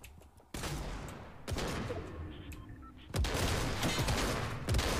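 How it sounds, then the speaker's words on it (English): Gunfire in the Fortnite video game, with sniper shots cracking out as several sharp, loud reports over a dense, continuous wash of in-game noise. "I just got sniped by somebody."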